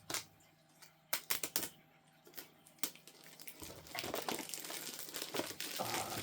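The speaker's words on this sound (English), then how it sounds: "I'm just going to take it out of the protective plastic coating here." A toy action figure is pulled from its protective plastic packaging, with close crinkling and crackling plastic, sharp snaps at first and then a steadier rustle, no speech.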